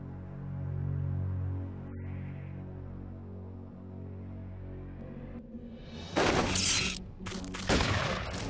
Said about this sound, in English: That is a rifle, not a shotgun.